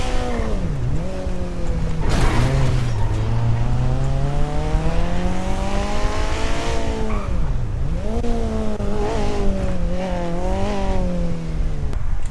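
An old, run-down car's engine revs loudly and continuously, its pitch rising and falling in long sweeps as it accelerates and eases off, close and dominant throughout with no voices over it.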